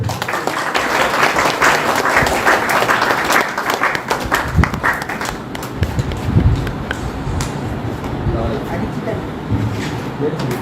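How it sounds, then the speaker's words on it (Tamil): Audience applause at the Golden Voice Awards ceremony, a dense crowd clapping steadily for several seconds, gradually thinning toward the end, with scattered voices and a presenter speaking over it. "எங்கே உங்கள் கரகோஷம்?"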